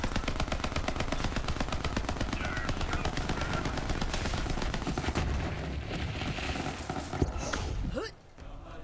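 COV weapon firing rapidly in Borderlands 3, a dense, relentless stream of loud gunshots that runs for most of the stretch before cutting off near the end.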